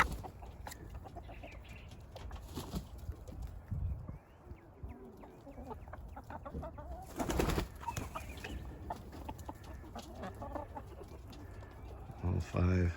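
Roosters and hens in a meat breeding flock cluck and call softly around the pen, scattered short calls over low background noise with faint voices nearby.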